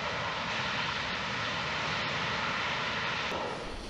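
The jet engines of a C-17 Globemaster III roar in reverse thrust: a loud, steady, wide rushing blast that holds almost unchanged throughout.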